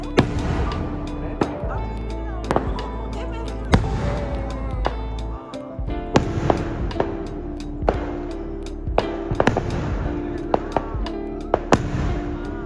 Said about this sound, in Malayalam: തിരിച്ച് വീട്ടിലെത്തിയപ്പോഴാണ് ഫയർ വർക്ക്സ് കണ്ടത്